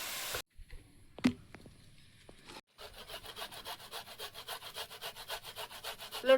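A tomato is rubbed back and forth on a kitchen grater in close rhythmic scraping strokes after a few scattered taps and a brief quiet pause.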